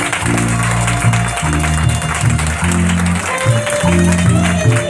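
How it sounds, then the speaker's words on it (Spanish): Applause rises from a crowd at a community event in a Guatemalan village, a wash of clapping held under loud, rhythmic music throughout. "Un fuerte aplauso."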